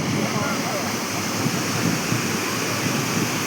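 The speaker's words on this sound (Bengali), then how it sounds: "আর ঢেউয়ের গর্জনটা শুধু শোনো" Ocean waves roaring at Digha beach, a loud continuous wash of surf with wind buffeting the microphone, steady throughout.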